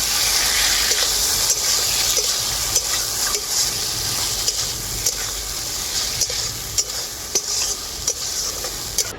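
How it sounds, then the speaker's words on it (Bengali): Spice masala with ground cashew and curdled sour yogurt sizzles and fries in a pan while being stirred, giving a steady close hiss with repeated scraping strokes and no talk. "আর দেবো ফাটানো টক দই একসাথে খুব ভালো করেই কষিয়ে নেবো"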